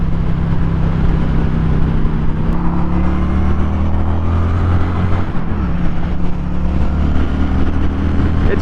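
A 2025 Honda Shadow Phantom 750 cruiser motorcycle ridden on the road, its engine droning loud and steady with a low rumbling throb and shifting pitch as it holds speed, mixed with wind rush and no voices.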